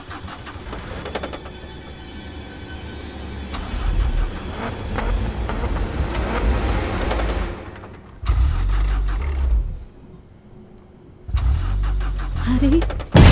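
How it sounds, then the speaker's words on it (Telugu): Repeated attempts to start a car: low grinding cranking bursts come and go in several separate spells with short quiet gaps between them, the engine never settling into a run, while voices speak nearby. "ఏం లేదు, కారు స్టార్ట్ అవ్వట్లేదు."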